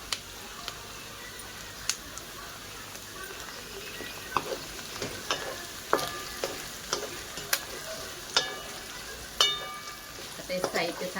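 Green chillies and spices fry in a pan on a home stove for a hotel-style gravy, making a quiet, steady sizzle broken by scattered sharp pops and spatula clinks.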